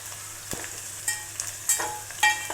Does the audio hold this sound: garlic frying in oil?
yes